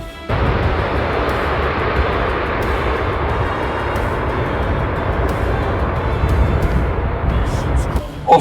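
An aircraft takes off with a broad, loud, continuous roar of engine and rushing noise that holds steady for several seconds and swells slightly near the end, with no speech over it.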